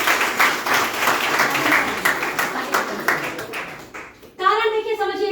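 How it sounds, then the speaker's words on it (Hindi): Audience applause at a business seminar, a crowd clapping steadily for about four seconds before it fades and a voice begins speaking. "एक बार आपको ताली बजानी चाहिए।"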